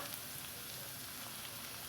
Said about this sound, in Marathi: एक 2-3 मिनटं त्याला चांगलं परतून घ्यायचं